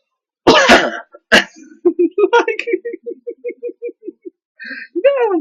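A person coughs hard several times in quick succession near the start, close and loud, then talks at length in a steady conversational voice.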